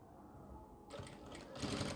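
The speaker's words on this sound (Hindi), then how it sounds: "हम यहाँ से सिलाई लगाएंगे" A sewing machine stitches a ladies' scarf mask, starting after a quiet moment with a rapid mechanical rattle that grows louder and busier toward the end.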